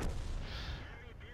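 An artillery shot in a tank video game played from a T67, a single heavy boom right at the start that rumbles and fades away over about a second.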